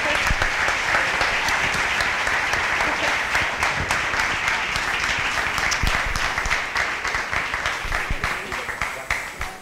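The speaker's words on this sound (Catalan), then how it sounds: "Un aplaudiment, sisplau." Steady audience applause at a gala presentation, a dense sustained patter of many hands clapping that thins slightly toward the end.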